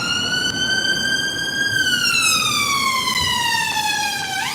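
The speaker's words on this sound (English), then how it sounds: "that's a London ambulance." A loud two-tone London ambulance siren wails nearby, holding one pitch then sliding lower as it passes, over steady traffic rumble.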